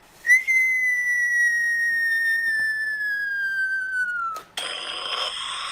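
A person whistles one long, loud, clear note that glides slowly downward for about four seconds. The note breaks off into a sharp, breathy rush of air.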